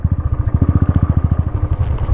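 A motorcycle engine chugs on a mountain road, a close, steady rapid thumping pulse of firing beats for a couple of seconds with no voices.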